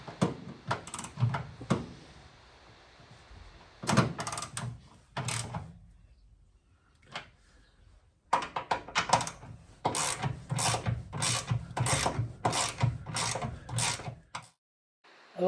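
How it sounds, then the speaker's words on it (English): Hand tools clank and ratchet while tightening the front strut towers on a VW Beetle, a series of sharp metallic clicks and clunks in irregular bursts with short quiet pauses, close by. "Time to tighten up the strut towers."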